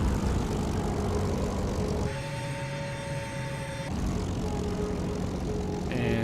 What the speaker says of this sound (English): there's a few focke-wulfs flying around